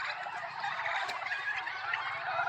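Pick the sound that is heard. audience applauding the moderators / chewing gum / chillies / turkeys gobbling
turkeys gobbling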